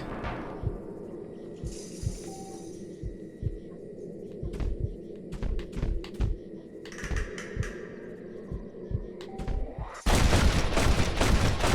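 Sharp gunshots crack out in a duel in the video game Red Dead Redemption, a series of spaced single reports over a low hum and tense rhythmic thumps, followed by a sudden burst of loud noise at the end.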